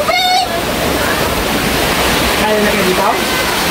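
Loud, continuous rushing floodwater roars during a typhoon in Mindoro, a dense steady wash of water filling the whole clip with no talk over it.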